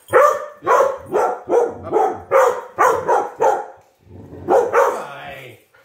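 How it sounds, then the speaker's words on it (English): A dog barks loudly and close by, about eight sharp barks in a steady run, then a short pause before two or three more throatier, whining barks. "Yeah, don't bark at me."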